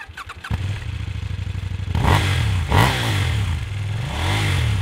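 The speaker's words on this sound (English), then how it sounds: "That's KTM's first ever parallel twin." A 2019 KTM 790 Duke parallel-twin motorcycle engine catches with a clatter, settles into a throbbing idle, then is blipped through several sharp, loud revs that rise and fall.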